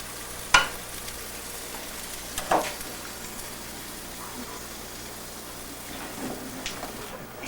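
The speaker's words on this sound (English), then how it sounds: "I stir-fried it for about a minute." Shrimp stir-frying in a pan, a steady soft sizzle with a couple of sharp clinks from stirring, close and moderately loud.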